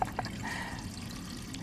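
Water poured from a bottle into a container, a short, soft trickling splash heard close up and fairly quiet.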